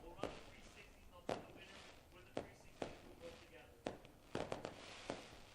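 Fireworks burst over a speedway as a series of sharp cracks and thuds spread over several seconds, faint and distant, with a few quick pops clustered near the end.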